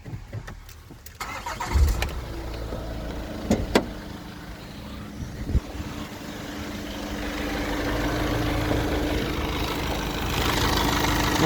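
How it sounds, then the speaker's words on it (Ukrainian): A 2017 Renault Master van with a 2.3 dCi diesel engine cranks and fires after a few clicks and thuds, then idles evenly and steadily, the rumble growing slightly louder toward the end. "зараз заведу автомобіль, щоб ви побачили, як працює мотор, верніше почули"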